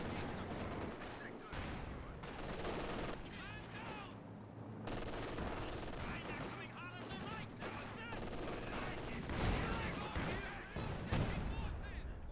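Dense bursts of machine gun fire and explosions from a 1v1 World War II strategy game involving Panzer IV tanks, rattling almost continuously with louder crashes, while a commentator talks over it.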